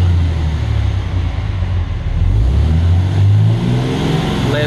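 A Cummins common rail diesel engine revs up with a steady loud rumble, then its pitch sinks back down as the throttle is released, with no talk over it.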